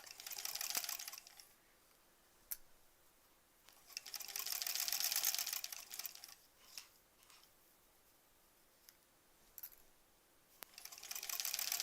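A sewing machine back-tacks the seams of a stuffed bunny toy, running in several short bursts of rapid stitching separated by quiet pauses and small clicks, fairly faint and with no talk.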